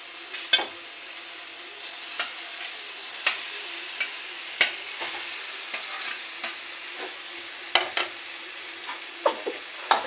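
Pasta goes into a pan and is stirred, with irregular utensil scrapes and taps landing every second or so over a faint, steady sizzle. The sound is close, with no talking.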